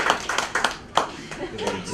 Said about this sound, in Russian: Так, прекрасно, аплодисменты.